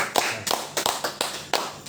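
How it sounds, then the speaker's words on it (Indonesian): Scattered claps at a live religious talk in Manokwari, West Papua, about six sharp separate hand claps in an uneven rhythm, close and moderately loud rather than a full crowd ovation. "Tepuk tangan."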